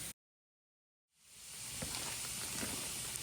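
Pasture-raised ground beef seasoned with salt, pepper and garlic fries in a pan, a steady close hiss of sizzling that starts after a moment of silence.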